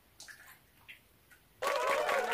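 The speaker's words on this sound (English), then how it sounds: "No, you pour water." Water poured into a homemade Heron's fountain, a steady loud rushing pour that starts suddenly after a few faint knocks and continues to the end.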